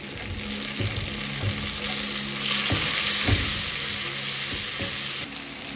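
Aromatics sauté in a pan for pakbet, with a loud, continuous close sizzle and periodic scrapes and taps of stirring throughout.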